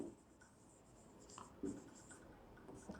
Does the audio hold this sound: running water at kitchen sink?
no